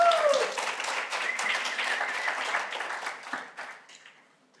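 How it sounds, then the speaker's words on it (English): Conference audience applauding a speaker, a burst of dense clapping that starts strong and gradually thins and fades away over a few seconds. "Round of applause, please."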